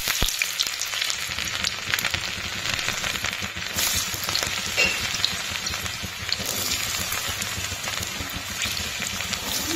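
Vegetables for fried rice and chili paneer sizzle steadily in hot oil with garam masala in a pan, a dense continuous frying hiss with scattered crackles and occasional stirring scrapes, close and fairly loud, no voices.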